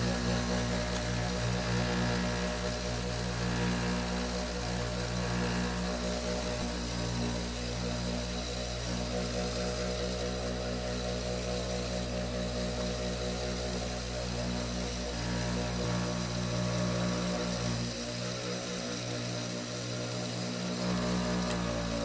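A motorized edge-slicking machine burnishes the edges of a leather western fast-draw holster, making a loud continuous whirring hum with a steady tone that runs unbroken throughout.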